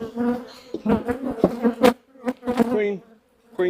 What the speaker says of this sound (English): You can see all the flying bees are coming back already